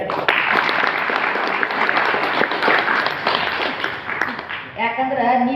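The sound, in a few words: audience applause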